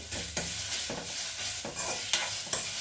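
Leaves of doddapatre sizzle in hot oil for a tambuli, with a steady frying hiss and several sharp scraping stirs of a spoon against the pan, no talking.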